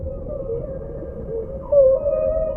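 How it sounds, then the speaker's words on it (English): A humpback whale calls underwater, a low moaning tone that wavers and then rises into a brighter, louder whistle-like note, heard alone against faint ocean background. "Sometimes whales use their own sonar, making sounds which can travel many miles, bouncing back from underwater mountains."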